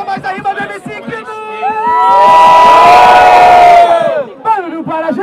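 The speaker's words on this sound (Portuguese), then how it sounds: "E agora eu quero barulho para quem gostou mais da rima do MC Knut" Crowd at a street rap battle in São Gonçalo erupts into loud cheering and shouting for a few seconds, sandwiched between a host talking over a microphone.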